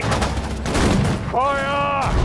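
Gunfire crackles in the WWII strategy game Sudden Strike 4, in a British desert battle at El Alamein: dense bursts of shots under a loud, steady battle din, with a shouted voice command from a game unit partway through.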